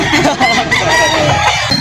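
A rooster crows loudly and close at a chicken market in Lipa, Batangas, with hens clucking around it and a busy, crowded background of fowl.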